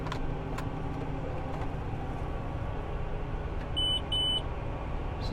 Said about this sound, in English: this is just giving you a warning that it may end up traveling outside the boundary